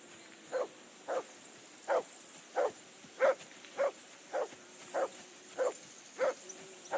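A dog barking in the Kingdom Come Deliverance II video game, about a dozen evenly spaced single barks at a steady rhythm, moderately distant and alone over quiet outdoor ambience.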